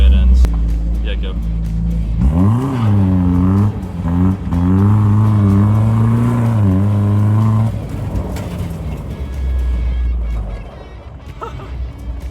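A straight-piped Dodge Dakota truck revs hard while hooning in a private lot, its loud raw exhaust rising and falling in pitch, with voices talking over it inside the cab.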